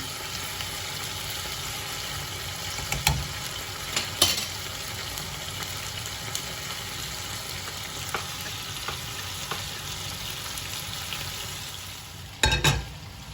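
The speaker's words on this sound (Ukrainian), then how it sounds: "Поки обшмажується наша куриця" Steady frying sizzle of chicken in a pan, continuous and close, with a few sharp clinks of a utensil scattered through and a louder clatter near the end.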